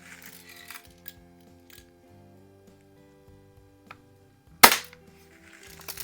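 A 1947-49 Daisy Red Ryder model 111 BB gun fires one sharp, loud snapping shot near the end, preceded by faint mechanical clicks against a quiet tonal background, with no talking.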